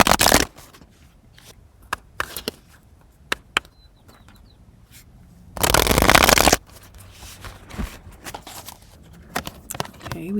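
Tarot cards being shuffled and drawn, with two loud bursts of riffling near the start and around the middle, plus scattered soft taps and flicks of cards in a quiet room.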